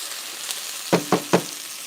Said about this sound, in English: now the onions are starting to slightly brown.